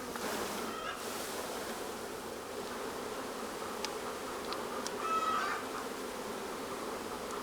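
Honeybees buzz in a dense, steady drone as they are shaken from a package box into a hive on a warm day, loud and continuous with a few individual bees passing close.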